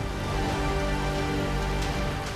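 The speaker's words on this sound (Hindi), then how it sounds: "रिमझिम फुहारों के बीच रायपुर में जमकर बारिश हुई" Heavy pre-monsoon rain pours down in Raipur, a dense steady hiss of drops drumming on surfaces, constant and close with no pauses and no voices.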